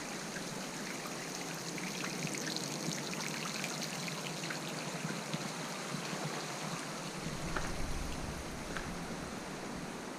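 Hot spring water flows and trickles steadily from its source in the Himalayas of Uttarakhand, India, a continuous close splashing wash with a deeper rush joining in near the end.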